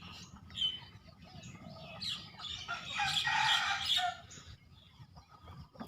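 Chickens and chicks on a small farm on an overcast morning give faint, scattered chirps and peeps from a little distance, rising into a denser cluster of high calls midway, with no talking.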